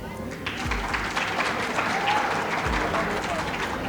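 Quiz-show audience at a secondary-school semi-final applauding a correct answer, a steady, dense burst of clapping with crowd murmur that fills the whole stretch at a fairly loud, even level.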